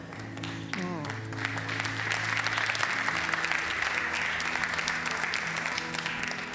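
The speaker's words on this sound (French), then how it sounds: "Est-ce qu'on peut donner une autre main d'applaudissement pour toute la famille?" A church congregation at a French-language praise service applauds for a family, with dense steady clapping that swells and sustains, while a voice speaks over the start.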